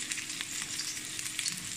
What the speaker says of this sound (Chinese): 先把虾米落来煸香